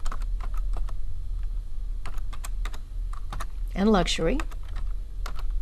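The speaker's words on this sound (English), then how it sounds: "We will type our row and column headings" Keys clatter in a steady run of clicks while someone types row and column headings into an Excel spreadsheet. Someone speaks briefly partway through, with the typing continuing around his voice.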